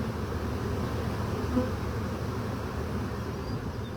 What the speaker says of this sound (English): You can see even in the swarm, the bees are now starting to walk down towards that piece of comb into the hive.